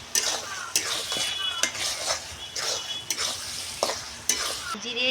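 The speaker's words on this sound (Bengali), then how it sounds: "চালের গুঁড়ো দিয়ে আমি একটু নেড়ে নেব।" Rice flour stirred in a pan while frying, giving a steady run of soft scraping strokes with a light sizzle and occasional clinks of the utensil against the metal, close and with no talk.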